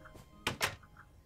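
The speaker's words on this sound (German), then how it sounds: "Klingt aber wie eine Tür." A door in Minecraft opens and closes with two quick, soft, hollow clunks in close succession, heard alone in quiet game ambience.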